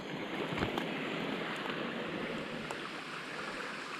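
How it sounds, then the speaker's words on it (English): Steady broadband rush of a small brook flowing nearby, a continuous wash of water noise with light wind, heard outdoors near a pond during a dirt bike ride, no voices. "Nice little brook."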